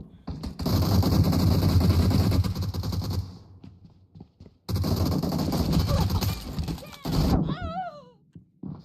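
Two long bursts of loud, close automatic gunfire in a shooter video game, separated by a short pause. A brief tail follows the second burst, and a voice talks over the shooting.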